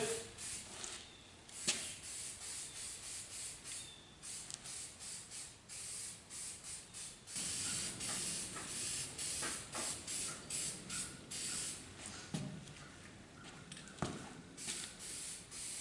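Spray paint hissing onto shooting targets in repeated short bursts, close and steady, with pauses between passes and no talking.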